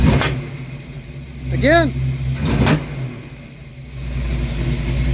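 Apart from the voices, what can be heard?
Ford Mustang engine revving as throttle is stabbed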